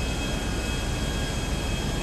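A police helicopter pursues a player in the video game GTA Online, its rotor and engine roar heard as a loud, steady, broadband drone with no talk over it.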